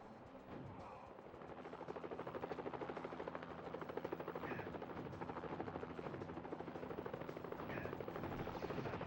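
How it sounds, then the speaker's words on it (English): Helicopter rotors drone steadily while rapid machine-gun fire rattles in repeated bursts during a Mission: Impossible video game mission, loud and dense throughout with no talking. "So I have to take down at least 5 helicopters to get through this mission."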